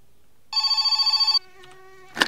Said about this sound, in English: Alright, I'll answer the fucking phone.